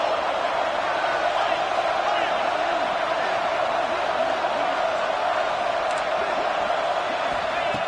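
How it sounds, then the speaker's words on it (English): Stadium crowd in the College Football 26 video game, a dense continuous roar rising for a red zone defensive stand, steady and loud with a commentator's voice over it. "This crowd is trying to inspire this defense to make a big red zone stop."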